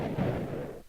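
A sapper detonating in the fantasy strategy game Age of Fear gives a loud, dense low rumbling blast that fills the second, then cuts off abruptly near the end.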